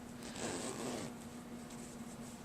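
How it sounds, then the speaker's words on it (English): A brass metal zipper on a small boxy makeup bag is pulled in a short rasping run, quiet and close, followed by faint rustling. "I used a brass metal zipper."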